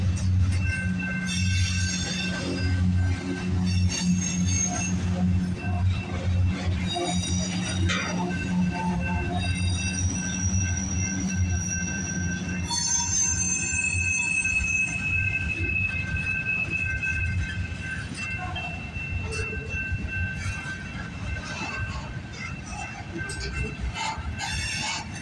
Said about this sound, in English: Now I can see the train because of this guy.